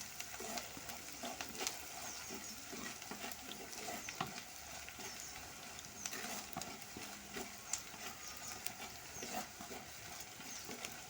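Food with turmeric powder sautés and fries in a pan, a faint, steady sizzle broken by soft scrapes and taps of stirring, with no talk.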